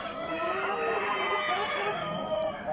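Hens and roosters at a national poultry exhibition in a busy hall cluck and crow together in a dense, continuous din, at moderate loudness.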